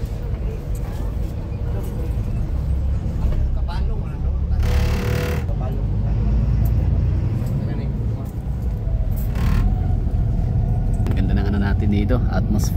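A GV bus rolls along a city street in Davao early in the morning, its steady engine rumble and road noise filling the scene, with a loud passing surge midway and people talking nearby.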